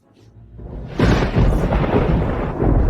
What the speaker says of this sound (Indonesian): itu suara guntur